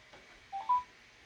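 Two short keypad tones from a mobile phone, dialing into a conference call line, clear and close in an otherwise quiet room.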